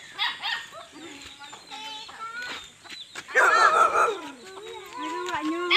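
Several chickens cluck and squawk nearby in uneven bursts, with an occasional louder cackle rising above the flock.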